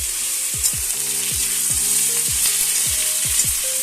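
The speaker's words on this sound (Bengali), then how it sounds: "আদা বাটাটা দিয়েও 2-3 মিনিট মতন এটাকে ভালো করে কষাতে হবে।" Mixed vegetables fry in a pan with ginger paste for a Chhath festival dish. A loud, steady sizzle runs throughout, with regular spatula strokes pulsing through it.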